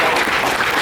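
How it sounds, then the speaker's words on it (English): An audience claps in a brief burst of dense, steady applause at a live event, loud and close, with no talk over it. "Leanne TD, give her a round of applause."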